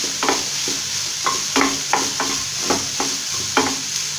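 Chopped onions frying in a pan on a high flame while a spoon stirs them, steady sizzling hiss under a series of regular scraping, clinking strokes heard up close with no talking.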